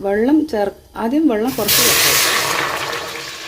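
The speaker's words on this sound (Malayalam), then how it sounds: "കുറച്ച് വെള്ളം ചേർത്ത് കൊടുക്കാം." A voice speaks briefly, then a steady rushing splash of water pours into a metal pressure cooker on a stove and keeps running, loud and close.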